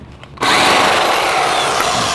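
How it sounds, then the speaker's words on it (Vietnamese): A power tool loosens the wheel lug nuts on a 2015 Toyota RAV4 during a brake pad replacement, a loud, steady whirring burst kicking in abruptly after a short quiet moment and running without talk. "Dặn ốc á, thì mình dặn ở dưới trước."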